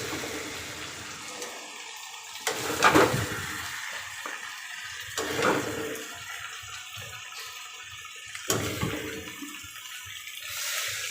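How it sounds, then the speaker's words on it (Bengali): Water poured into a cooking pot during chicken cooking: gushing splashes come in several bursts, with a sizzling hiss between them, close and moderately loud. "জল ঢেলে দিব এখন"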